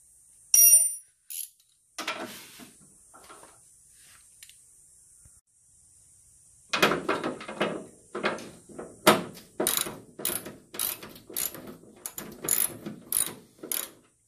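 Ratchet wrench backing out 9/16 bolts from the grille of a WWII Willys MB / Ford GPW jeep: a few scattered clicks and clunks at first, then a fast, loud run of rhythmic ratcheting strokes close to the mic.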